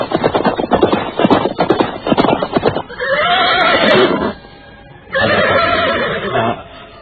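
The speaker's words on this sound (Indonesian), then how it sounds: "dua orang prajurit berkuda datang menghampiri mereka." Two soldiers' horses ride close, loud and near. Hooves clatter rapidly at first, then two long, strong neighs follow with a short gap between them.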